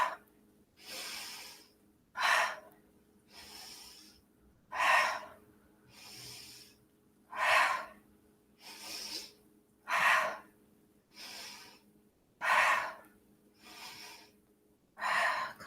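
During yoga exercise, heavy rhythmic breathing repeats about a dozen times, each breath a loud airy rush separated by short quiet pauses, close and alone.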